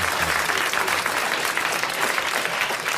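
A 1982 French studio audience on a radio-television comedy panel show gives a thick, continuous wash of applause, loud and even from start to finish with no talk above it.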